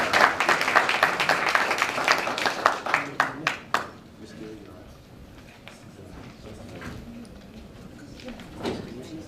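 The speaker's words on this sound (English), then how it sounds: "Let's give the young man another round of applause." Audience applause at a city council meeting, loud dense clapping that thins into a few slow, scattered claps and fades out, followed by quieter room noise and murmuring.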